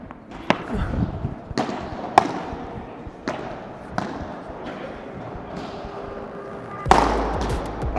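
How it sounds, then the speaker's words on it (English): Padel rally with Adidas speed balls: sharp ball impacts ring out every second or so, leading into a loud, forceful smash near the end, over steady court ambience. "Big smash from Ben to kick us off"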